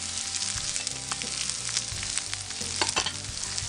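Meat and wilted spinach fry together in a pan while being stirred, a continuous close sizzle broken by scraping and spoon clinks, moderately quiet and free of speech.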